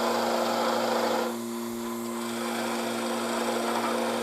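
Soft wood spinning on a lathe, held by a vacuum chuck, is sanded with a steady abrasive rasp and a continuous motor hum; the scratching eases briefly, then resumes.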